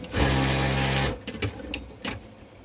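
A sewing machine stitches a scrap of fabric in a quilting session, a fast loud whirring burst of about a second, then stopping into scattered clicks and short mechanical taps.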